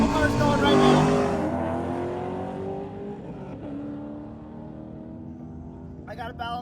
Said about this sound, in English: Got a couple cars going right now.